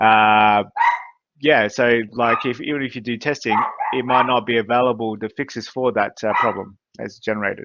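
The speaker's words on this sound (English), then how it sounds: "sorry about the barking" A dog barks and yips intermittently while someone talks steadily over it; the barking sits close and mixes with the speech throughout.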